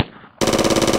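A loud, rapid burst of machine-gun fire, a sound effect for the ultimate weapon in a stop-motion animated battle, bursts in after a brief quiet lead-in and rattles evenly until the end.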